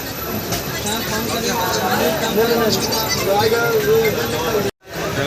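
Steady rumble and rattle of a train moving off, with crowd chatter and voices throughout, then a sudden brief dropout near the end.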